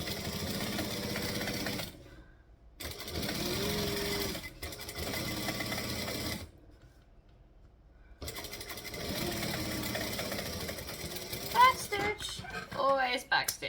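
A sewing machine runs in bursts for stitching and back stitching while a garment is sewn, with short pauses between runs; the motor hum is steady and close, and a few sharper clicks come near the end.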